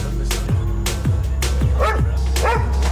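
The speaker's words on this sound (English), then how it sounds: "the 6 dogs protecting the property are not helping" Six guard dogs protecting a property bark hard and repeatedly at police trying to get in, a rapid sequence of loud, close barks over a constant low rumble.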